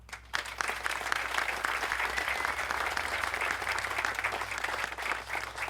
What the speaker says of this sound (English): every name I've mentioned deserves one more round of applause